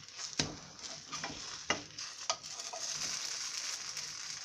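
A batter cake fries on a low flame after being flipped, with a gentle steady sizzle broken by a few sharp spatula taps and scrapes against the pan, close and quiet.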